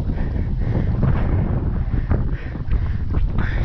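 Strong wind buffets a cyclist's microphone on a hot ride up Marmanu, a steady loud rumbling roar that runs through the whole stretch with no clear voices.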